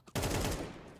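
Gunfire in a competitive Counter-Strike match, a sudden loud burst of rapid shots that starts abruptly and keeps going in a dense crackling stream before easing slightly toward the end, with no talk over it.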